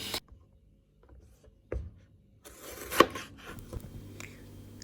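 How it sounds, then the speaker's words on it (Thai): A knife slices through a crisp bell pepper with a couple of sharp cuts against a board, with faint kitchen rustling around them. "หลังจากนั้นเราก็จะมาตัดพริก พริกหวานกันจ้ะ"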